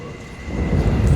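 Intermodal freight train led by a heritage unit locomotive, crossing a bridge near Kenova, West Virginia: a deep, close rumble that swells steadily over a brief moment, with no voices.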